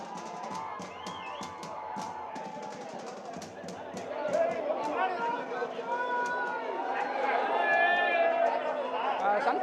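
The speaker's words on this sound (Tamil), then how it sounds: "முதல் காட்சியை காண்பதற்காக ரசிகர்கள் உற்சாகமாக குவிந்துள்ளனர்" Excited Rajinikanth fans packed outside a Trichy cinema for the first-day first show of Coolie; a dense crowd babble with scattered cheers that swells louder toward the end, with a reporter talking over it.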